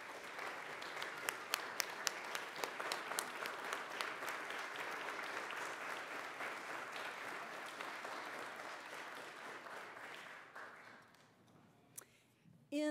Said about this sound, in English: Please give them a round of applause because they are just wonderful